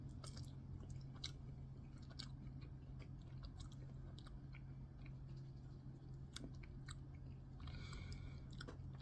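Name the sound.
chewing a pickled red hot sausage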